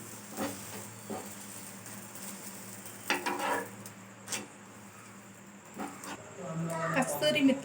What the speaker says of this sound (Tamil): பேன் ஹீட் ஆகிடுச்சு. சப்பாத்தி போடுறேன்.